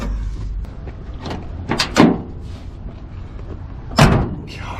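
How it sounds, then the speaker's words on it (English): An old, rusty Cadillac's car door is worked open at a junkyard, giving clunks and metallic creaks, with two sharper knocks standing out against faint outdoor background noise. "That door opens really well actually."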